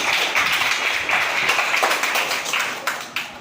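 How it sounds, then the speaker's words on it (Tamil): An audience at a cultural program in an old-age home in Anakaputhur claps together in a lively, slightly uneven burst, close and fairly loud, with individual sharp claps standing out as it trails off. "நல்ல ஒரு கைத்தட்டு கொடுக்கலாமா?"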